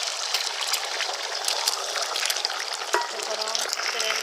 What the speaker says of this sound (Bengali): গরম তেলের মধ্যে ডিমগুলো দিয়ে দিয়েছি